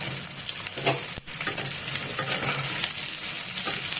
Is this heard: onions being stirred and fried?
yes